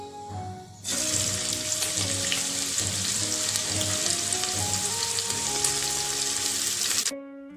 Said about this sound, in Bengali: গরম তেলের মধ্যে কুচনো পেঁয়াজ দিয়ে দিলাম